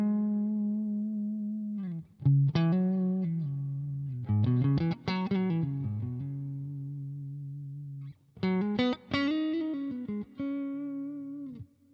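Electric guitar through a Morgan SW50 clean amp model on a Quad Cortex, played as bright clean single notes and short chord stabs with bends, sustained phrases separated by brief pauses, alone without talk.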